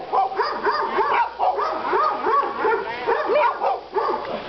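Several dogs, including large Great Danes, at a busy dog wash bark, yip and whimper in rapid overlapping bursts, loud and close, keeping up an excited, continuous clamor throughout.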